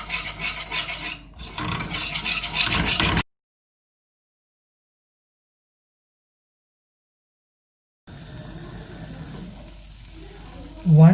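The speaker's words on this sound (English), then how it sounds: "add 30 gram of all-purpose flour and mix it well" A utensil stirs melted butter and all-purpose flour together in a pan, making scraping and swishing sounds. Two stretches of stirring are separated by several seconds of complete silence.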